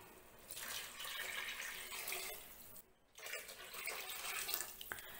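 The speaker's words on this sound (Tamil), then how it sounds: "6 கப் தண்ணி ஊற்றணும்" Water pours steadily from a tap into a pot for vegetable biryani, six cups, a continuous rushing splash with a brief pause midway, fairly faint and close.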